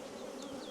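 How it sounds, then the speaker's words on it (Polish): Steady, droning buzz of an Elgon honey bee colony, close by and continuous, with a dense hum filling the short moment and no voices. "te wszystkie pszczoły, ta cała rodzina"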